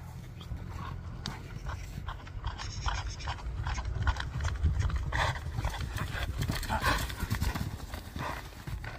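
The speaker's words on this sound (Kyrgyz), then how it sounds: "атты чабып келип калды" A horse gallops with steady rapid clip-clop hoofbeats, close and continuous, mixed with panting and occasional snorts from animals at an outdoor ride, while people speak in the background.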